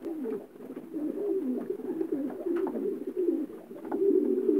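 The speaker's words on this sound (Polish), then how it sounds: "najstarsze gołąbki" Pigeons coo softly and continuously nearby, their low, throaty warbling rolling on without pause.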